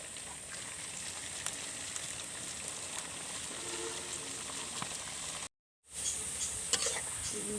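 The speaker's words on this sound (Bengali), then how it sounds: "গজাগুলোকে হালকা আঁচে ভেজে নেব এবং এটাকে সময় নিয়ে ভেজে নিতে হবে।" Gaja sweets deep fry slowly in oil over low heat, giving a steady, soft, continuous sizzle with faint crackles and a brief gap in the middle.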